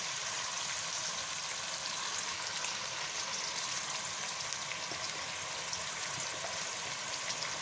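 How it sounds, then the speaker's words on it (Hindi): Chopped onions for a mutton korma frying in a pan, a steady close sizzle with soft crackling that holds at even loudness throughout, no voices. "सबसे पहले प्याज डाल देते हैं फ्राई होने के लिए"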